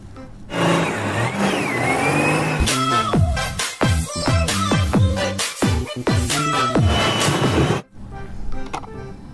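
A toy bulldozer plays a loud electronic engine effect up close, with revving, warbling tones and rhythmic chugging pulses that stop suddenly near the end.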